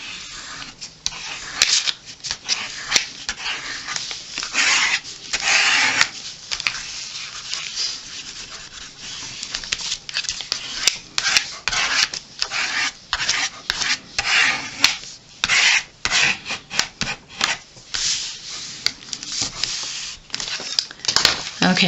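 Pattern paper is burnished onto a small mini album, giving repeated close rubbing and scraping strokes in irregular bursts of varying loudness over about twenty seconds, with a few quiet gaps between passes.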